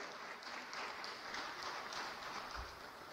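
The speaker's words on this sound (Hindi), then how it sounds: "इनके लिए जोरदार ताली बजाइए जरा" An audience at a university career guidance event gives a sustained round of applause, a steady, dense clapping wash at moderate distance with no voices over it.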